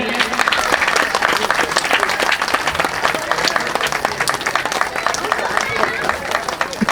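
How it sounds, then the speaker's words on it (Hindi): Loud, sustained applause from a crowded audience at an evening Hindu religious yajna and Bhagavat Katha gathering, dense clapping continuing throughout with crowd murmur underneath. "जोरदार ताली बजाइए।"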